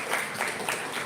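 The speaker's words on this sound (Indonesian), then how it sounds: "Tepuk tangan dulu sekali lagi buat beliau." A seminar audience at a nursing education workshop claps in a brief, dense burst of applause with fairly even loudness across the short stretch.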